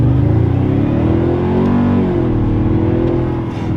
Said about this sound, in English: for being a twin turbo V6, this sounds like a V8